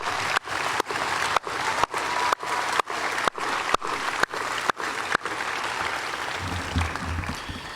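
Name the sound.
applause for the drill sergeants at infantry graduation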